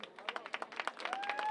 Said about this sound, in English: And a round of applause from the crowd.